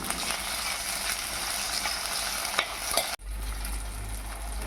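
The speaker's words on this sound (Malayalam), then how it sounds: "തക്കാളിയും ചേർത്ത് ഒന്ന് വഴറ്റിയെടുക്കുക" Small onions, fenugreek and tomato sautéing in hot oil, a steady loud sizzle with scraping stirs, briefly interrupted before the frying hiss resumes close by.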